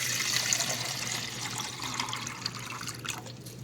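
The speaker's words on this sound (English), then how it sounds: "Let's go ahead and fill our 24-ounce reservoir here." Water runs steadily into the 24-ounce reservoir of a Nespresso coffee machine, a soft continuous trickling and splashing heard close up without talk.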